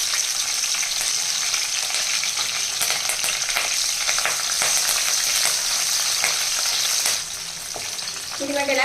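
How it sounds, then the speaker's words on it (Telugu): Slit green chillies and curry leaves frying in hot oil for a spiced fish masala, a steady dense sizzle and crackle with small spikes throughout, heard close and alone without talk. "ఈ ఆయిల్ కొంచెం వేడైన తర్వాత ఆరు పచ్చిమిరకాయలు తీసుకుని ఇదిగోండి మధ్యలోకి ఇలా చీల్చేసి వేస్తున్నాను అనమాట అలాగే కొంచెం కరివేపాకు"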